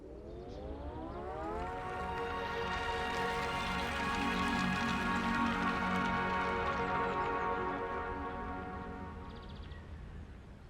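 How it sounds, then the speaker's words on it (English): A sustained electronic melody of layered rising and falling tones swells and fades over about ten seconds, the pedestrian alert tune of the electric Fiat 500. "500 has the only engine able to play a melody."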